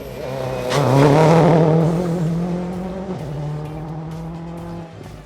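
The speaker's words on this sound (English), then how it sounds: "Leading the charge over the asphalt was Jamaica's Geoffrey Penton" A rally car races over asphalt on a stage rally in Barbados, its engine roaring loud and close as it passes, the pitch falling away with a brief tire squeal, no voices.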